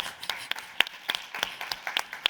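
A handful of people at a pharmacy conference clap for volunteers called up on stage, sparse, uneven claps at a moderate distance rather than a full ovation, fairly quiet with pauses between hits.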